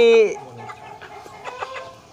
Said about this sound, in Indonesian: ini ayam yang saya beli ya dari Bos Margo